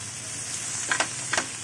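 Steady oily sizzle of two onions and a tomato frying in a spoonful of oil on a tawa, with a couple of brief louder crackling bursts near the end.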